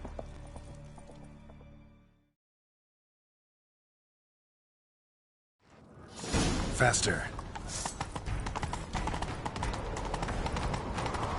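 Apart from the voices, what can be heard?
horses galloping in a chase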